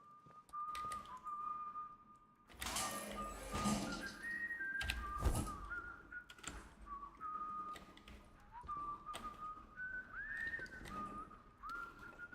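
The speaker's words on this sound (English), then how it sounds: "I hear an outlaw whistling." An outlaw whistles in the video game Atomfall: a sustained whistled tune with sliding, wavering notes under game ambience, with rustling footsteps and a few sharp bursts of noise mixed in.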